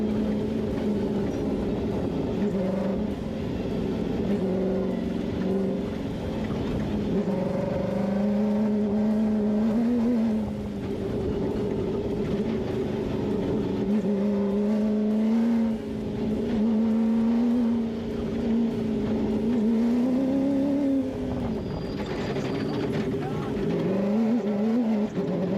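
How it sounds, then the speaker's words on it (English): An off-road race truck drives a NORRA Baja stage from Ensenada to San Felipe. Its engine makes a loud, continuous drone that rises and falls in pitch as it works, with muffled voices faintly underneath. "should we just pay attention to the sound of the truck, listen to it, and the dust and the sun"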